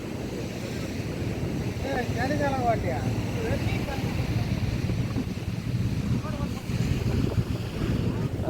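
Fishing boat arriving on the beach at Kalpakkam, Tamil Nadu, heard through strong wind buffeting the microphone and rolling surf, with people talking nearby over the steady roar.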